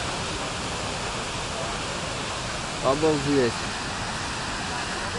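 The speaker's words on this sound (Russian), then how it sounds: "Это и сверху, и скал как-то бьет вода." Water pours from the cliffs of the Düden waterfall in Antalya, making a constant, broad roar throughout. A voice briefly exclaims over it.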